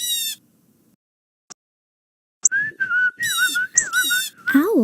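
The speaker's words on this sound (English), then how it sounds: "If you listen, you can hear them whistling to each other." Forest birds whistling, with bright, clear warbling notes rising and falling in short phrases, some close together, after a brief near-silent gap.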